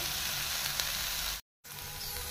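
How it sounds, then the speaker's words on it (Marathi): Onions and tomatoes sizzle steadily in a hot pan, a continuous close frying hiss that cuts out briefly partway through and then resumes. "सो कांदो फ्राय जालो आनी हांव हिरवी मिरसांग आतां घालता."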